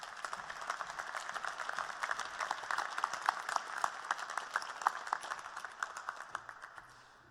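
A graduation ceremony audience applauds in a hall, with many hands clapping steadily at moderate distance, building and then slowly fading out.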